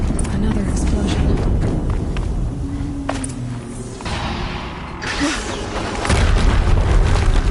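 A heavy explosion in the video game Horizon Zero Dawn rumbles loudly through dense game noise, with mechanical clanks and a voice talking over it.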